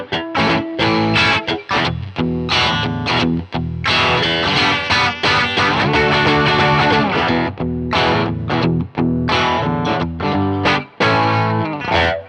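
An electric guitar is played through a Cornerstone Antique V3 Tubescreamer overdrive pedal, giving a driven tone with choppy rhythmic chords and sustained riffs, loud and close with no talking.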